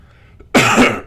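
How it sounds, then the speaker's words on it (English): A single close, abrupt cough bursts out loudly after a brief moment of near quiet, harsh and breathy, lasting about half a second. "Ooh, I coughed."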